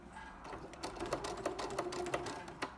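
A sewing machine stitches a French seam with a vent in short bursts of rapid needle clatter, separated by brief pauses and sharp clicks, close and fairly quiet.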